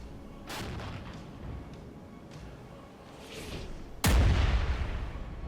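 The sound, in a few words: M109 artillery counter-battery fire in the video game Regiments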